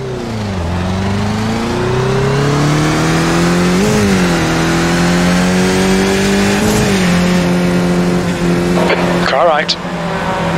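A Skip Barber race car in the iRacing sim roars away at the green flag at Canadian Tire Motorsport Park, its engine loud and close, pitch climbing through repeated gear changes, with a brief tire squeal near the end.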